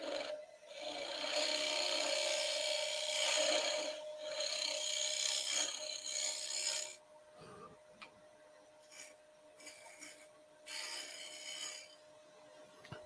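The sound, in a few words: sanding a bur oak bowl on a lathe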